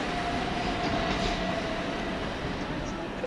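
A Govia Thameslink service from Bedford to Three Bridges moves at East Croydon station, a faint, steady rail rumble with a thin sustained tone running through it.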